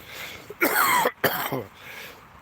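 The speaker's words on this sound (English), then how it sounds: "You hear that cough, man?" A person coughs twice in quick succession, harsh and throaty, close up, with quiet pauses around them.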